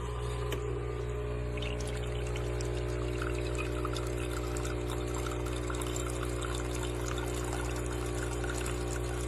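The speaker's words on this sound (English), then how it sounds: "the water never stop" A Breville Barista Express BES870XL espresso machine in brushed stainless steel pours a steady, continuous stream of water into a cup, with the pump humming underneath at constant volume throughout.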